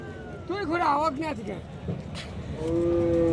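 Sahiwal and Gir cattle at a border-area cattle market, with a loud, close, wavering moo followed by market noise and another sustained low bellow at the end.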